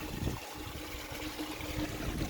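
Water from a spring-fed pond runs out of a pipe into a small tank on a homestead, a soft continuous trickle and splash heard alone at low level.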